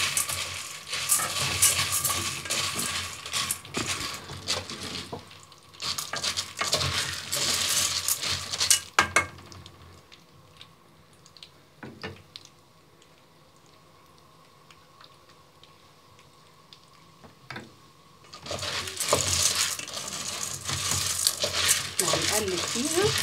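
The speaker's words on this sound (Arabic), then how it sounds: "هنا يا بنات الزبدة معانا سخنت اهو، وهنحط المكرونة بتاعتنا" Dry pasta is poured into hot melted butter in a pan, giving close, bright rattling clatter in two bursts separated by a quieter stretch of faint ticking and sizzle.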